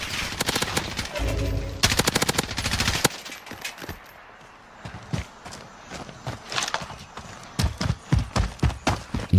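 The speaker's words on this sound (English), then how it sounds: "What do you hear? Just gunfire." Rapid bursts of video game gunfire in Call of Duty: Warzone on Verdansk crackle in quick rattling volleys, then slower single shots and scattered pops ring out, with faint footsteps in the lulls.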